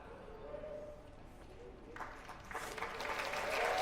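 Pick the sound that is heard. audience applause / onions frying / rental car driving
audience applause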